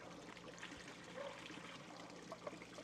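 Water flushes and trickles into a pond at a cultural center in Wai'ohinu, a faint, steady dribbling stream with a soft splashing wash running throughout.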